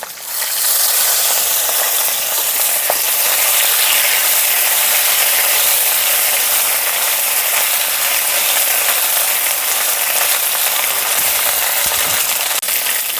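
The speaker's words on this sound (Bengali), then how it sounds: "সব মশলাগুলো ভাজা ভাজা হয়ে গেছে।" Spices with ginger paste and green chili sizzle steadily in a hot pan, a loud, even frying hiss that holds for the whole stretch with no talking.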